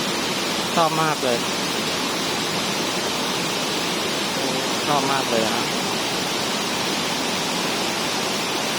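Continuous broad roar of Huai Mae Khamin waterfall in Srinagarind Dam National Park, close and constant, with someone speaking briefly over it twice.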